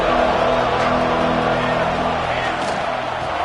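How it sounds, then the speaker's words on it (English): A football stadium crowd roars throughout an Oregon vs Texas game, a dense, steady wall of noise heard from within the stands, with a play-by-play voice faintly underneath. "This crowd is trying to inspire this defense to make a big red zone stop."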